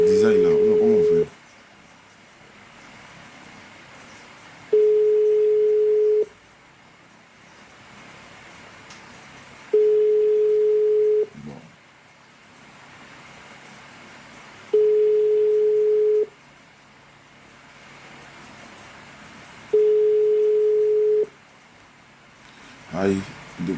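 An outgoing phone call rings unanswered, with five evenly spaced ringback tones, each lasting about a second and a half and separated by roughly three-second gaps, clear and steady over a faint background hum.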